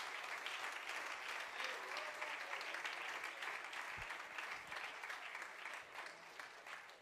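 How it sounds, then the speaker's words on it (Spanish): A church congregation applauds in praise during a bilingual Spanish-English sermon, a dense, steady burst of many hands clapping that fills the room for several seconds without pause. "Let's give the Lord a hand clap of praise."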